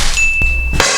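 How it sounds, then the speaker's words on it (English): A single sweet bell ding rings out clearly and near, a sustained bright tone that fades under soft knocking sounds. "With that sweet opening bell,"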